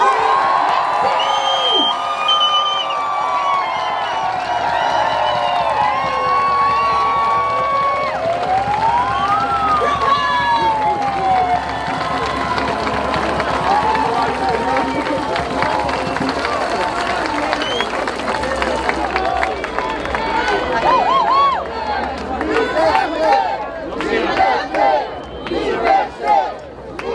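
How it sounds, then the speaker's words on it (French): A large outdoor crowd at a Montreal rally cheers and claps after a speaker finishes, with steady loud crowd noise throughout, voices shouting over it and the clapping growing more distinct toward the end. "Un autre applaudissement pour Sarah Choujounian, s'il vous plaît."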